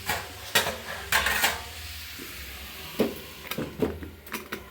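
A lid set onto a cooking pot of plain vegetable bhaji, a few close metallic clanks and knocks spaced irregularly over a faint background sizzle, no talking.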